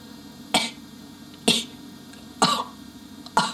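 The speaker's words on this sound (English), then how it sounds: "I'll do it again with a little cough." A singer voices short vowel sounds with a glottal, cough-like onset, four separate bursts spaced about a second apart with quiet between them, close to the microphone.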